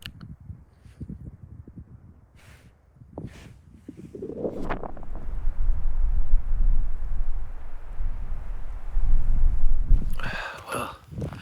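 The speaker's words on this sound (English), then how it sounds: "It's been super windy." Gusty wind buffets the microphone in rising and falling roars outdoors while elk hunting, with scattered rustling and a few sharp knocks near the end.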